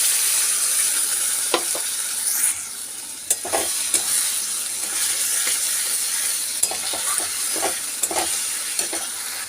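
Potatoes and onions frying with ground spice paste in a pan for goat-fat ghugni, with a steady close sizzle and occasional stirring scrapes and clinks.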